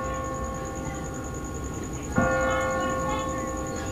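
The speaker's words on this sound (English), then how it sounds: "no one's ringing that bell. It's automatic. On a timer." Church bell rings automatically on a timer at twenty past the hour, a single resonant strike blooming over a steady background hum and then ringing on.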